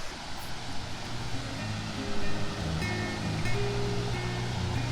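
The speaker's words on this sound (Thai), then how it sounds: "อันนี้ก็คือน้ำตกชั้นหนึ่ง" Continuous rushing water from a waterfall, a steady broadband roar with faint tonal sounds mixed in, fairly close and unbroken.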